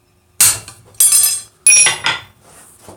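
A hammer drives a drift through a hot rivet hole heated to dull red, giving three sharp metallic strikes in uneven rhythm, loud and close with ringing decay.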